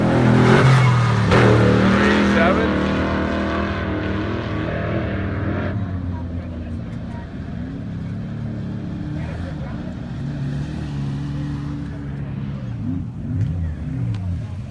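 An off-road race truck runs in the Parker 425 desert race, its engine roaring loudly at first and then fading into a steady distant drone, with people talking over it.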